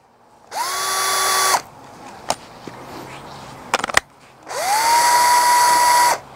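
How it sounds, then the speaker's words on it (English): Cordless DeWalt 10.8 V drill boring with a 32 mm bit in two loud, sustained bursts about a second long each, with a whining motor spin-up, separated by brief clicks and handling knocks. "So this time, drilling test."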